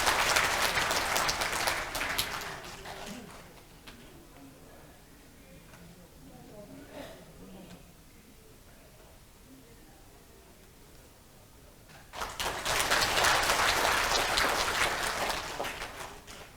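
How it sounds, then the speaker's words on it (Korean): Audience applause breaks out in a National Assembly conference hall at a veterans' honor-allowance rally, once at the start and again near the end, with quieter room murmur between the bursts. "박수로 환영을 해주시죠"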